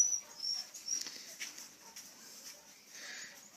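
Puppies whimpering and squeaking at Thanksgiving, several thin high cries and whines in short bursts, close and moderately loud, with a faint voice nearby.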